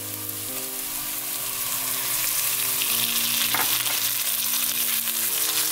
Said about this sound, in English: And stir fry again.